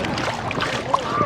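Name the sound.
boat moving on lake water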